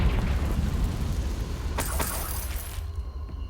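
Confringo explosive spell cast in Hogwarts Legacy, a loud rumbling blast with a sharp crackling shatter near the middle that trails off into quieter ringing.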